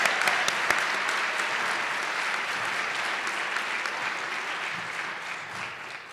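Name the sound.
applause for award winners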